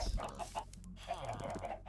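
Chickens clucking in the Minecraft video game, a steady run of short clucks near a farm area over a faint background bed, with no talk.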